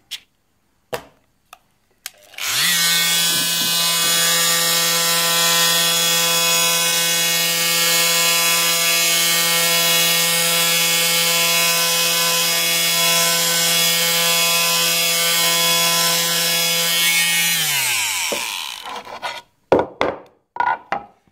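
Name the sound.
Fein multifunction tool sanding with triangular pad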